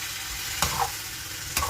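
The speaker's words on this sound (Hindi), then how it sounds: "अब हम इसके अंदर जो है वो अपनी शिमला मिर्च ऐड कर देंगे, प्याज ऐड कर देंगे, और पाइनएप्पल स्लाइसिस भी ऐड कर देंगे। 2 मिनट में इसको हम फ्राई करेंगे।" Chicken frying with capsicum, onion and pineapple slices for pineapple chicken fried rice, a steady loud sizzle with two brief scraping stirs of the pan, no talking.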